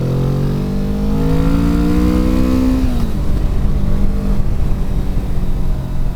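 A 2024 Kawasaki Vulcan S 650 motorcycle accelerates hard, engine pitch climbing steadily before an upshift drops it, then the engine pulls on with strong wind rush, loud and close, no speech.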